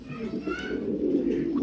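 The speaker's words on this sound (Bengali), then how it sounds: "ভাবেন না আবার মাদি ডাকে কেন ভাই" A female fancy pigeon coos softly and steadily from close by, with the low warble running through the whole stretch and faint higher chirps over it.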